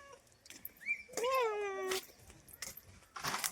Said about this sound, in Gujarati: બિલ્લી ચોર જાય છે આગળ આગળ